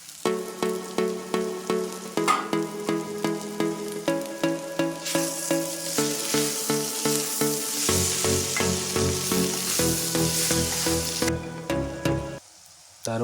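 Egg curry sizzles loudly in a pan as pepper, coriander, cumin and garam masala powders are stirred in, with a steady frying hiss broken by regular, rhythmic scraping strokes of the spoon, close and alone.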